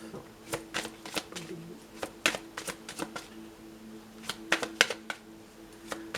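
A deck of tarot-style cards is shuffled and cut in a series of sharp riffling bursts and soft slaps, close and fairly quiet, with a steady low hum underneath and no talk.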